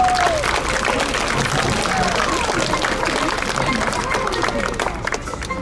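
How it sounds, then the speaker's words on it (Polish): Audience at a magician's carnival show applauding for a performer, with dense sustained clapping and crowd noise, loud at first and thinning slightly toward the end. "wielkie brawa dla niego"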